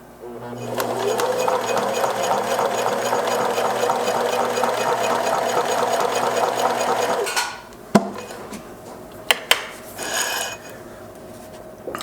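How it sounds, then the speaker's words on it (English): A regular metal sewing machine with a rotary hook runs a straight stitch through two layers of leather, a steady, loud mechanical whir for about seven seconds before stopping, followed by a few clicks and handling knocks. "And I'll just go ahead and run a straight stitch on these 2 layers of fabric."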